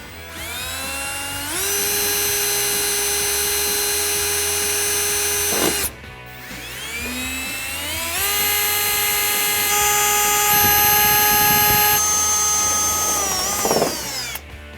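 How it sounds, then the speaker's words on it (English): A power drill with a 3/32 inch bit whines up to speed drilling pilot holes for a pickup fender flare, runs steadily, pauses briefly, then spins up again for a second longer run before stopping. "We can now drill out our pilot holes using a 3/32 inch drill bit."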